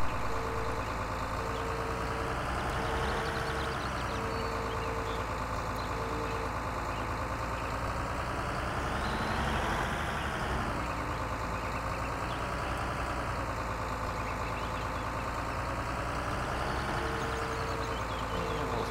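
A tractor engine in the video game Farming Simulator 2013 drones steadily and loudly with slow swells in pitch, and a faint repeating tone sounds at the start and end.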